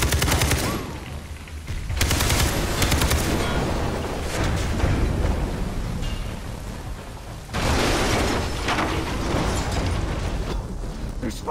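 Gunfire in Far Cry 3 as pipes are shot, dense rapid bursts of automatic shooting with explosive cracks and a continuous loud roar throughout, sharp and close.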